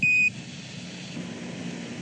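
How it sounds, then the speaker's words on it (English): A sharp electronic 1201 program alarm beeps briefly at the start on the Apollo spacecraft, then cuts off, leaving a low droning hum like an engine or cabin noise. "Roger, 1201 alarm."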